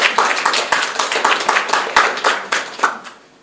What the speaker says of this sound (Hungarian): Minimum egy taps.